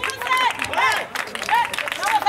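A crowd at a Mexican independent wrestling fundraiser show claps and cheers, loud and close. Shouting and whistling voices rise over the applause throughout.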